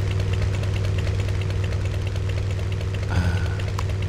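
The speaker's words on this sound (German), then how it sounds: "Ein Motorrad." A motorcycle in Empyrion Galactic Survival idles with a loud, steady, buzzing engine drone that holds throughout, with a brief mechanical shift near the end and no talk.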